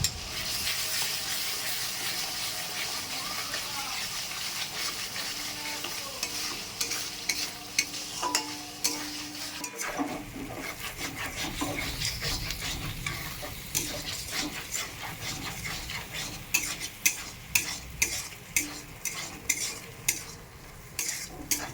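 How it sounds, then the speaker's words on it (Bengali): Stone-ground spice paste with salt and turmeric sizzles in a pan for a pangas fish curry while a spoon stirs and scrapes it, turning into a steady rhythmic scraping toward the end. "লবণ, হলুদ আর শিলে বেটে রাখা মশলাটা দিয়ে দেবো আর মশলাটা ভালো করে এবার কষিয়ে নেব।"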